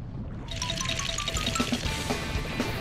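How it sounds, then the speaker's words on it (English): Water cannon spraying in a Paw Patrol video game, a steady pouring, splashing gush of water beginning after a short silence and continuing at moderate loudness with small plinking tones over it. "Marshall's water cannons aren't enough"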